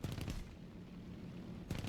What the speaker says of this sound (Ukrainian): давайте будемо пробувати гармати спочатку